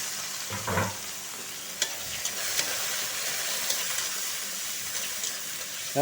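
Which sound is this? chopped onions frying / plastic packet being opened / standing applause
chopped onions frying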